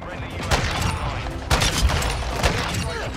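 Rapid, overlapping gunfire from a sniper rifle with no scope in a first-person shooter video game, loud and continuous with several heavier bursts, mixed with busy game noise.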